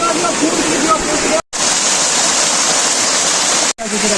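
A small waterfall with a steady broadband rush of falling water, loud and close, cut by two brief gaps; faint voices are present beneath the water noise.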